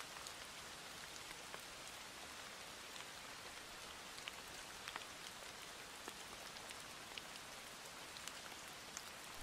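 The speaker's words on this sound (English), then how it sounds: "Rain, rain, go away." Steady rain falls continuously on a surface, a dense even patter with scattered sharper drops standing out, quiet and unbroken, with no voices.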